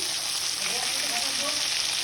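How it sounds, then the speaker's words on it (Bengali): Fish fries in a pan with a steady, close, hissing sizzle of hot oil that runs unbroken throughout, with faint stirring noises beneath. "এখানে মাছ ভাজা হচ্ছে"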